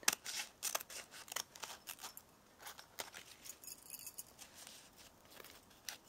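Scissors snip through paper, cutting petal shapes for a handmade Valentine's pop-up card. A quick series of crisp, close snips sounds with short pauses between them, quiet and with no talking.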